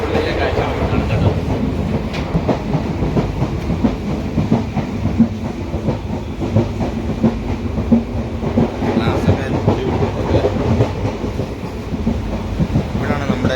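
Inside the Velankanni to Ernakulam Express while it moves, a loud, continuous rumble fills the carriage, with rhythmic clickety-clack of wheels over rail joints and faint voices beneath the din.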